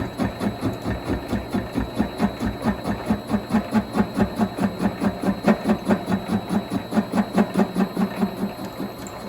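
Vevor MX 400 mini lathe cutting with a high-speed steel tool, a fast regular chattering pulse over a steady motor hum, close and moderately loud, with no talking.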